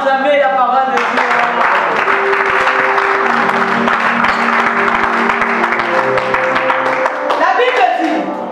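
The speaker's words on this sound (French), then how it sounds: "Est-ce qu'on peut d'abord acclamer la parole de Dieu?" A church congregation applauding, sustained loud clapping from a crowd with voices mixed in and a tone held throughout.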